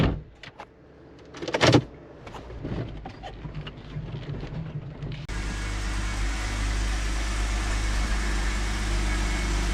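A Jeep Wrangler with a 3.6L engine and a leaking head gasket clicks and cranks in a few uneven bursts, then catches and settles into a steady, continuous idle drone.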